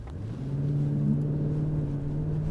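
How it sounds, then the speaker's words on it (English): A 2026 Mercedes GLS 580 with EQ boost accelerating at night, heard as a steady low engine hum with a faint rising tone that builds over a couple of seconds, continuous and moderately loud, with no talk. "There we notice how fast it is off the ground, especially due to the EQ boost."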